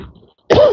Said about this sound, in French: J'aurai de quoi tousser un tout petit peu